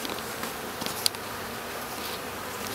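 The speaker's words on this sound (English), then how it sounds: "That's a big hive." Bees swarm around an exposed hive during a bee removal, a dense continuous buzzing that fills the space, close and steady, with one brief sharp tick partway through.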